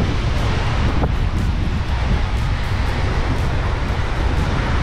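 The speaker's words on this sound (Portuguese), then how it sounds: "Ó, a ventania." Heavy wind buffets the microphone in a constant loud rush at Praia dos Anjos, Arraial do Cabo, Brazil, with surf churning underneath and no voices.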